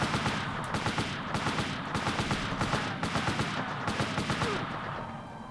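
Sustained machine gun fire from an enemy gunner in the PlayStation game Army Men: Land, Sea, Air, rattling in rapid bursts with brief gaps, loud and close, with no talk over it.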